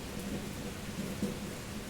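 Rain and thunder form a steady, dense wash of rainfall with a low rumble underneath, continuous and even throughout.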